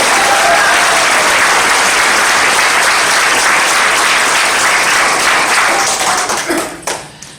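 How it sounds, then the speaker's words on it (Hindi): Loud, sustained applause from a large audience at a motivational session in Odisha, a dense continuous roar of clapping that holds steady for several seconds before tapering off at the end. "सबसे पहले तो मैं प्रतिष्ठा जी के लिए चाहूंगा एक बार अभी तक के दमदार तालियां।"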